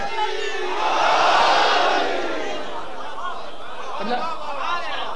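A large crowd at a religious gathering shouts slogans together, a loud, swelling roar of many voices that peaks early, then settles into rougher, scattered cries and murmurs.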